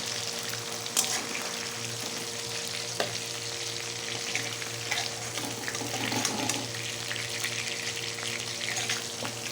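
Pabda fish fry in hot oil with an even, watery sizzle that holds throughout, broken by a few brief utensil knocks, close by and without talk.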